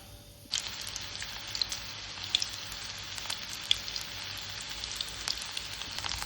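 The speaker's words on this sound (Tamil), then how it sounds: "எண்ணெய் சூடானாலும் எண்ணெயில் வெந்தயத்தை போட்டுக்கலாம். வெந்தயம் பொரிஞ்சதும் சின்ன வெங்காயம் போட்டுக்கலாம்." Fenugreek seeds and small shallots fry in hot oil for a Tamil garlic kulambu, a sharp sizzle that starts abruptly and stays steady and close, scattered with small popping crackles and no voices.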